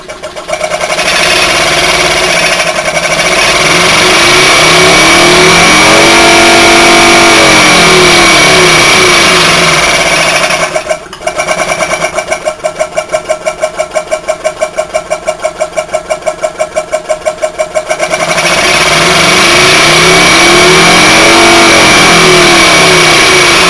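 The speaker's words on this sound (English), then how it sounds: "at idle these 400 volt motors seem to be just" A Maneurop MTZ100 400-volt refrigeration compressor motor idling with no load, a loud, steady mechanical drone with a constant hum and a brief dip partway through, heard alone.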